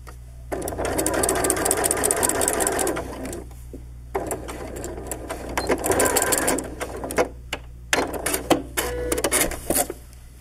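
A domestic sewing machine stitches a hoodie up to the notch along a basting line, running close and loud in several bursts of stitching separated by short pauses and handling noise.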